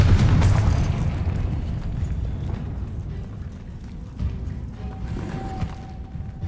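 Confringo fire spell blasts in Hogwarts Legacy, a loud rumbling explosion at the start that tails off into a sustained low roar with scattered crackles and a few softer bursts later on.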